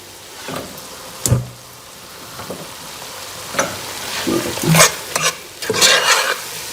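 Minced beef keema fries in a pan with a steady sizzle, broken by sharp spatula scrapes and stirring strokes that grow busier toward the end, close and clear with no talking.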